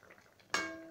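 A spoon clanks once against a pan while mushroom masala gravy is stirred, a sharp metallic hit whose ring fades over the next half second after a few faint scrapes.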